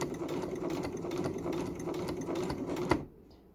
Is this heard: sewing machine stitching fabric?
yes